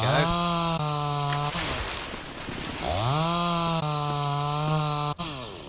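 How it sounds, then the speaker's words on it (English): Chainsaw cutting a tree in the survival video game Mist Survival, a loud, steady, close buzzing whine that drops into a rough, noisy bite into wood before the engine returns to a high drone, no talking. "Right, let's get the chainsaw."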